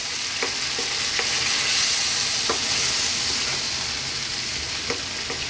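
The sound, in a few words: crushed canned plum tomatoes added to frying pan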